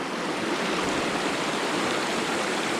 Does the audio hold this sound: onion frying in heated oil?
no